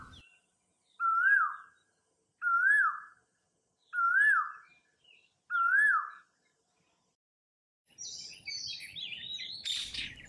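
A rose-ringed parakeet at a window gives four evenly spaced, rising-and-falling whistled calls close by, followed by a burst of harsher, busier chirping.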